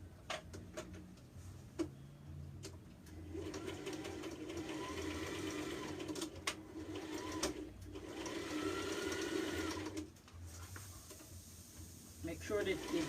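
Close sewing machine stitches down the facing on a handmade dress, running in long steady whirring bursts with short pauses, ticks and clicks between runs, and a voice talking faintly at times.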